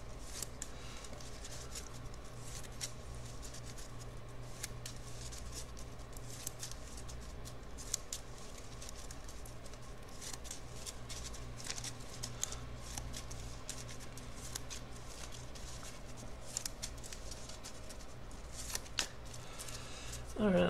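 A deck of cards for a She-Hulk precon game gets shuffled over and over, a soft steady riffling and patter, faint and close, under a low constant hum.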